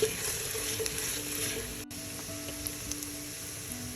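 Shallots and ginger sautéing in a pot, a soft steady sizzle and crackle at low level with a brief utensil stir, no speech.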